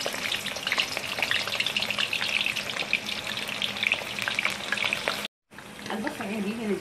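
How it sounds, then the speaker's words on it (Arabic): Onion and garlic fry in hot oil for perkedel, a steady close crackling sizzle that runs on, cuts out for a split second, then resumes with some faint background noise. "حقلي البصل والثوم لغاية ما أخليهم يستووا"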